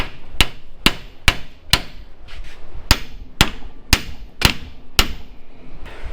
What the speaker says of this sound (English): Hit this thing with a bunch of hammer a bunch of times